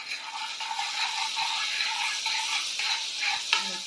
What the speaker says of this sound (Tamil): பட்டர் நல்லா மெல்ட் ஆகி வரட்டும் ஃப்ரெண்ட்ஸ்.